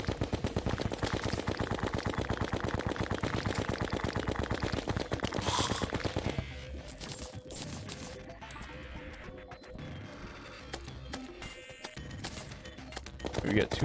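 Guns fire in the video game Terraria in rapid, continuous automatic bursts, loud and close, for about six seconds. Scattered shots and game effects follow at a lower level, and a voice talks over part of it.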